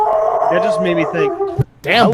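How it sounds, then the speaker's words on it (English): A dog howls and yips close by with a wavering, drawn-out tone, then gives a short bark. Someone talks over it. "Hey, that was not my dog. That was somebody else's dog."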